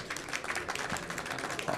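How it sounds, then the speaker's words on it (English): Audience applause after a talk on autonomous racing cars, a short burst of dense clapping from a crowd at moderate loudness. "Please give a round of applause."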